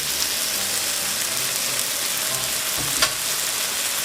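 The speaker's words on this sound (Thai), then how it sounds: "เราก็เอาไข่นะคะ ใส่ลงไปเลยค่ะ" Egg poured into pumpkin stir-frying in a pan, with a steady close sizzle of hot oil throughout and a brief sharper burst near the end as the egg hits; no voices.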